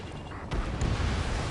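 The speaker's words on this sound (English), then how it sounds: "Gunfire and the roar of jets echoing through the streets." Gunfire and jet roar from the Ace Combat 7 video game, a dense, sustained low rumble with a sharper burst near the middle, loud and continuous throughout.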